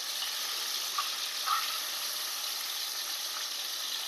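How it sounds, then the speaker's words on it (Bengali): Katla and rui fish pieces fry in oil with a steady, fairly quiet sizzle, marked by a few small pops and crackles. "মাছ ভাজা শুরু।"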